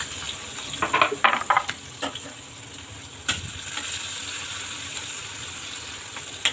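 Chopped onion frying in hot oil in a kadhai with cumin seeds and asafoetida, a steady soft sizzle with a few sharp clatters of stirring near the start and another knock midway.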